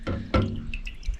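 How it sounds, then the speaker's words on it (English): Cleaning-bath liquid runs and drips off a freshly soaked fuel supply valve part from a 1959 Mercedes-Benz 220S W180, a few close splashes followed by smaller scattered drips, with no talk. "Okay, you let it drain."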